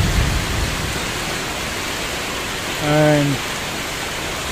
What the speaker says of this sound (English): you can hear the sound, and you can see it's raining